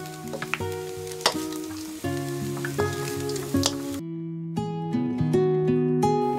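Crispy fried rice and shrimp tossed in a pan for Yangzhou fried rice after the stove is switched off, with light sizzling, scraping stir strokes and clinking utensil hits in quick irregular rhythm, close up with no talk.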